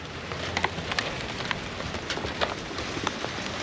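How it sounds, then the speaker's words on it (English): Hail mixed with rain falls outdoors at a roadside mechanic's work spot, a dense continuous patter with sharp scattered ice ticks cracking against hard surfaces close by. "It's hailing."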